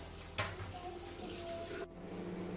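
Tiffin dishes get washed under a running tap at a kitchen sink, a steady stream of water with a brief clatter near the start, then the flow cutting off sharply near the end.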